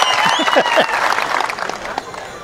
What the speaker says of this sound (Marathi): आबा आणि बाबासाठी पुन्हा एकदा जोरदार टाळ्या वाजवूयात